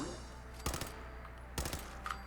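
Two short bursts of automatic weapon fire in Fallout 4, each a quick cluster of sharp shots separated by a pause, fairly quiet against a low game ambience.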